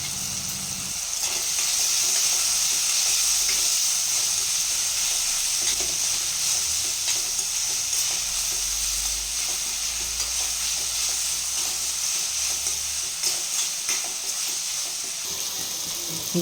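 Ginger garlic paste frying in a pan for goat head curry, a continuous close sizzle with faint scraping stirs throughout and no talking.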